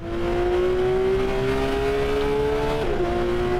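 Porsche 911 GT3 RS engine at Laguna Seca in a racing video game, a loud steady high-revving drone that climbs slowly in pitch, then briefly shifts and dips near the end, with no voices.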